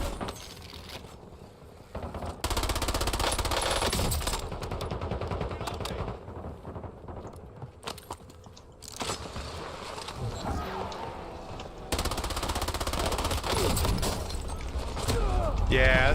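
Rapid SMG fire, including a Kogot 7, bursts repeatedly in a Warzone match, loud and dense in several volleys with short gaps, while players talk over the gunfire.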